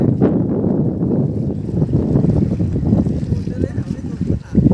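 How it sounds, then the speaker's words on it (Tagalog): Strong wind buffets the microphone at a ship port in Tabogon, Philippines, in a continuous rough roar, gusting unevenly, with a voice speaking underneath. "Kusog ang hangin, mga kaibigan."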